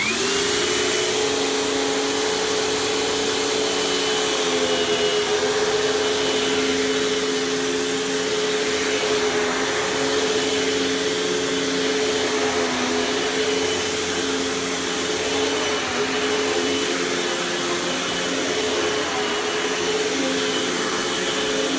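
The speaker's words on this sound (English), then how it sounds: "let's go ahead and plug this thing in and show it to you running" A Panasonic Performance Plus Platinum MC-UG589 upright vacuum runs continuously with a steady droning motor whine and constant airflow hiss, fairly loud and close, with no talking.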